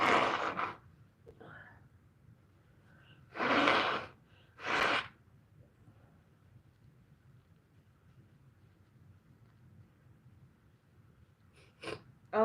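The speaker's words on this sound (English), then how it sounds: "Let me blow my nose." Someone blows their nose in a quiet room, a few separate short, breathy honks with long silences between them and a brief sniff near the end.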